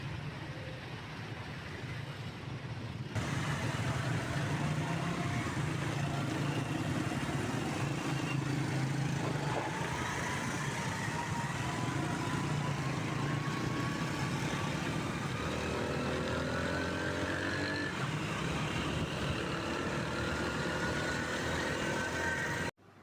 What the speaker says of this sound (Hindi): बहुत ज़्यादा ट्रैफिक का शोर था और बाइक पे बैठकर रिकॉर्ड करना मुश्किल होता है